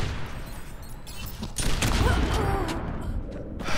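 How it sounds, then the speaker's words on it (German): A sharp, loud Widowmaker sniper shot in Overwatch bursts out with a booming tail amid noisy game sounds, followed by a rumbling swell. "Der hat meinen Sniper-Schuss reflektiert."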